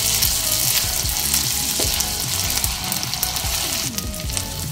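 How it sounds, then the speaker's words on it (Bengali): Ginger garlic paste stirred and fried in a hot pan while making mutton do pyaza, with a loud, steady sizzle and spatter running throughout, broken by scraping and stirring sounds. "আদা রসুন পেস্ট দেওয়ার পর আরও কয়েক সেকেন্ড নেড়ে নেব"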